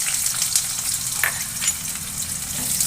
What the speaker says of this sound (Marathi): छान गुलाबी कलर येईपर्यंत परतून घ्यायचा